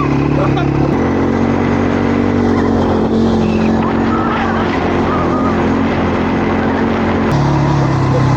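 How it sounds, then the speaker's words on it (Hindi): ATV quad bike engine running steadily and loudly on a desert safari ride near Jaisalmer, a continuous close motor drone with a brief shift in pitch, voices faintly mixed in. "तो अब जीप राइड के बाद सबसे पहले हम करने जा रहे हैं ATV बाइक की राइड"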